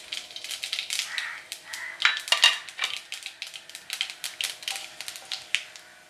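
Fennel and cumin seeds with mustard seeds crackling in hot oil in a pan, a steady run of sharp close pops and snaps with no talk.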